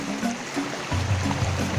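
A river rushes over big rocks, a steady broadband wash of flowing water with low gurgling undertones, loud and continuous throughout.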